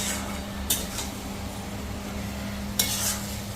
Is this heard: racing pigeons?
no